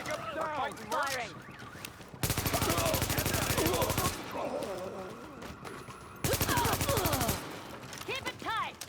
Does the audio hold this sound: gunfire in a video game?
yes